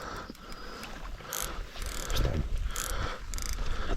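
A fishing reel on a feeder rod winds in line with a rapid, ratcheting mechanical whir, close and fairly loud, in uneven bursts over a few seconds during spring river fishing.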